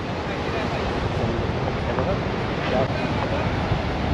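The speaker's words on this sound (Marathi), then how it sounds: "पाण्याचा किती प्रचंड दाब आणि प्रवाह आहे बघा हे बघा इकडे जो खडकांवरती आदळतो" Rough monsoon sea at a Ratnagiri beach during rain, waves crashing onto rocks in a continuous loud roar with wind noise, with no clear speech over it.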